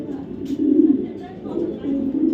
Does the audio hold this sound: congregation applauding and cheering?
no